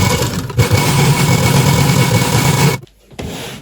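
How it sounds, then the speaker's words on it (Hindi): A sewing machine runs steadily and loud at close range for under three seconds while stitching the sleeve seam of a lined suit, then stops briefly before the motor starts up again. "अब हम यहाँ पर बाजू में सिलाई लगा देंगे। आप आगे से डबल सिलाई कर दें।"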